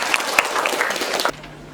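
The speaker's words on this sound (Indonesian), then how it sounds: "Tepuk tangan dulu." A classroom of students applauds with a burst of dense, close clapping that lasts just over a second and then cuts off abruptly.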